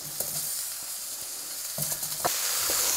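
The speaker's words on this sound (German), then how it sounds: "und dann brate ich darin auch gleich die Äpfel an" Apple pieces fry in a pan alongside onions, giving a steady close sizzle with soft crackles and a few clinks and scrapes of a utensil against the pan.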